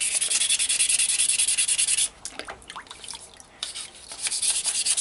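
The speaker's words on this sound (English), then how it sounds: "This takes all the grit off and makes the sanding a whole lot smoother." Sandpaper rubs in quick, steady back-and-forth strokes against a wet Cherokee pipe, with a short pause for small drips and handling sounds before the close, gritty sanding resumes.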